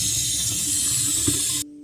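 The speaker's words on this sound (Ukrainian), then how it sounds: "Ретельно промиваємо стічною холодною водою наші строчки." Cold tap water runs steadily into a sink over boiled false morel mushrooms being rinsed, a continuous close splashing hiss that cuts off abruptly near the end.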